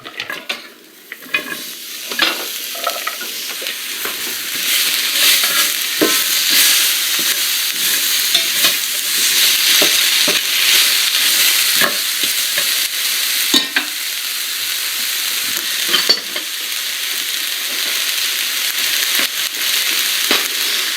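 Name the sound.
onions frying and being stirred in a pan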